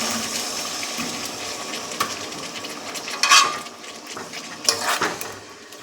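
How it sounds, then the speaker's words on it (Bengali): Water is poured into a pan of cooking pointed gourd and garlic curry, bringing a hissing sizzle that fades and then bursts louder twice with splashy spikes, close and without speech. "এবার আরেকটু জল দেবো যাতে পটলটা আর রসুনটা একেবারে সিদ্ধ হয়ে যায়।"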